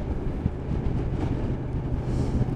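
Wind buffeting a microphone on a moorland road over the Peak District tops near Winnats Pass, a constant low rumbling roar with gusty surges and no voices.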